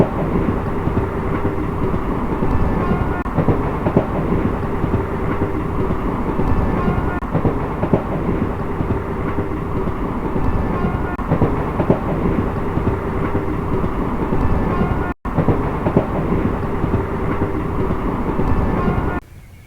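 A passenger train on the Weekly Express route from Pondicherry to Mangalore rumbles steadily along the rails, loud and continuous, with a brief cut near the end.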